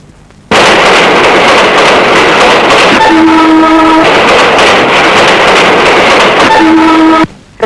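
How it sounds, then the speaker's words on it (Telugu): A railway train passes at full volume, a dense roaring rumble of wheels and carriages that starts abruptly and holds steady for several seconds, with two short sustained horn-like tones standing out partway through. "రైలు."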